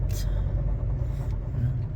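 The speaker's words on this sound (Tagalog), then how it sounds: "Pangit ang tunog yung sasakyan." A low, steady, rough-sounding engine rumble from a car, heard from inside or close by, with a brief hiss of air at the start.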